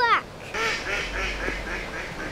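Ducks quack in a short burst, several nasal calls close together and fairly loud near the start, then a few softer quacks trail off over low rumbling background noise.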